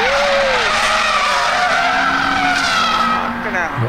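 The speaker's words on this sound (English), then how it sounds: "So in corner approach, I'm braking and using the brakes to rotate the car, my favourite mid-engine technique" A mid-engined Lotus brakes hard and spins on a race track, tyres skidding and squealing continuously in a loud, sustained screech with engine noise underneath.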